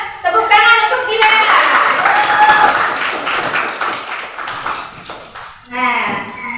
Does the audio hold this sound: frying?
no